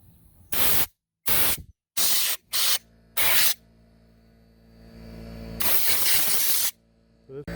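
Compressed air blasts debris out of an old chainsaw that sat unused for over 20 years: five short, loud hissing bursts in quick succession, then a pause and one longer sustained blast, with quiet handling sounds between.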